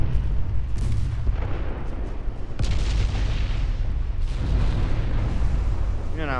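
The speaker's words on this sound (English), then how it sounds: "Of course it blew up" Ship explosion in the naval video game Ultimate Admiral: Dreadnoughts, a loud, sustained rumbling blast with booming bursts that rolls on at full strength for several seconds.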